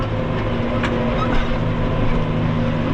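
A Case 115 C tractor's diesel engine drones steadily at close range, a low constant rumble with no break throughout.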